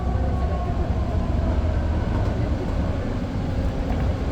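A BART Fleet of the Future train runs on the Orange Line in Oakland, a steady loud rumble and hum of wheels and motors heard from the cab, continuous with no talk.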